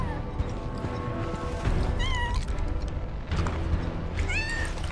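A cat meows twice with rising, wavering cries inside Final Fantasy VII Rebirth, heard over a steady bed of game music and ambience.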